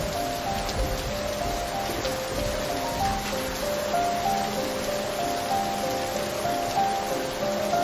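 Steady rain falls outdoors as a constant wash of patter and drops, even and unbroken throughout, with no voices.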